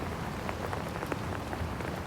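Steady rain falling on a surface at night, a dense continuous patter with scattered individual drops, moderately loud and close.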